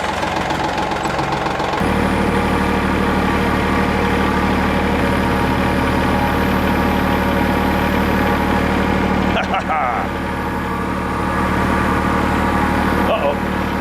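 A diesel engine fires up after its glow plugs warm, catching abruptly and settling into a steady, rumbling, close-up idle with a slight knock, and a voice briefly sounds over it.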